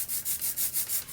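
Brayer rolling printing ink back and forth on plexiglass for stencil printing, a close, steady rhythmic sticky rubbing hiss pulsing about five times a second, with no voices.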